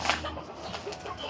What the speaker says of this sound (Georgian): კიდე რამოდენიმე შავი ქათმები არიან